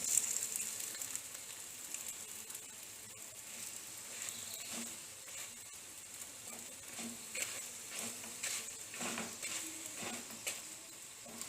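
Layered square paratha frying in a pan, with a quiet steady sizzle and a few soft stirring or flipping sounds, close and low in level with no talk.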